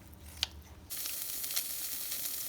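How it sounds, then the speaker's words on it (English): Ingredients toasting in a little oil in a pot for Mexican menudo sauce, a steady broadband sizzle that starts abruptly and continues close and fairly loud, with a brief clink just before it begins. "I just added a little bit of oil to the pot and now I'm just toasting them a little bit"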